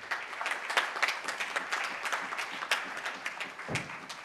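A round of applause from the audience at an annual day oration held at Hotel Taj Coromandel in Chennai, with dense, steady clapping that holds at a moderate level throughout and tapers slightly near the end.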